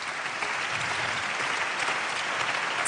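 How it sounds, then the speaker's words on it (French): Steady, dense audience applause fills a national awards ceremony honoring talents from France's housing estates, an even wash of many hands clapping without a break and no voices over it. "on peut l'applaudir"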